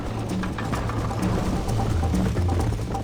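Horse hooves gallop in the Red Dead Redemption video game during a race, a rapid, continuous clip-clop rhythm up close over a low rumbling background.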